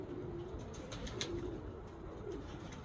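Pigeons coo softly at a rooftop loft in windy weather, low murmuring calls recurring over a faint breezy background with a few brief sharp chirps.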